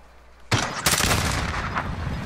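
Gunfire in the video game Call of Duty: Modern Warfare breaks out suddenly after a quiet half second, with loud, dense bursts of rapid shots and a second sharp blast, continuing as sustained heavy firing.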